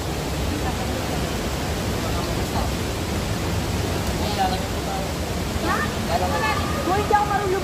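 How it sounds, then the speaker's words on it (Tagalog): Ambon-Ambon Falls in Panguil, Laguna, a waterfall roaring as a steady, dense wash of falling water, loud and close, with faint voices far off beneath it. "dito na tayo sa ating last and final destination dito sa waterfalls ng Ambon-Ambon Falls"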